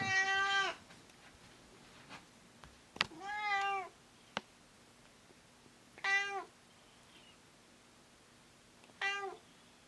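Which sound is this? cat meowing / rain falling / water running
cat meowing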